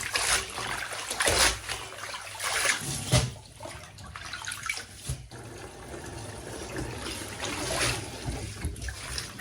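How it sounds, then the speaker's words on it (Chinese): Crown daisy greens being swished and rinsed by hand in a basin of clean water, with irregular splashing and trickling close up, rising and falling in bursts with no talking. "摘好之后要倒入清水中，用清水给它多洗2遍"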